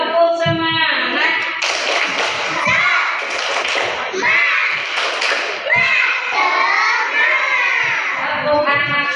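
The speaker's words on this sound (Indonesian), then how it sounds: "Yuk kita tepuk semangat dulu yuk" Kindergarten children clap together in a quick rhythmic pattern while young voices chant along, the claps and chanting loud and close throughout.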